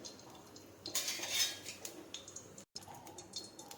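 A metal kadai clinks and clatters as ghee and oil go in, with a brief burst of clanking followed by light scattered taps, quiet and close with no talk.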